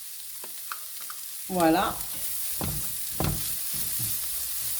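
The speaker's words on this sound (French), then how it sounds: "mon mélange est toujours en train de rissoler" A cauliflower and ham mixture fries in a hot pan with a steady, close sizzle. The scrape and clatter of stirring cut in over it, and a voice speaks briefly.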